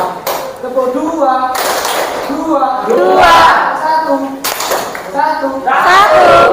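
In an Indonesian classroom, children clap in short rhythmic bursts as part of a counted clapping chant, with their voices chanting and calling out loudly between and over the claps.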